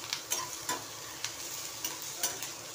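Onion frying with tomato and grated coconut in a pan, a soft continuous sizzle broken by several close, crisp scraping taps of a spoon stirring at irregular intervals, with no talking.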